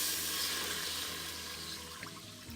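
Swanson chicken broth pours into a pot in a continuous splashing stream, fairly close and steady, with no talking.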